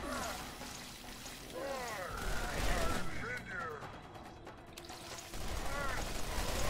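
Revolver gunfire in the video game Borderlands, quick shots heard under someone talking, mixed with game music and effects.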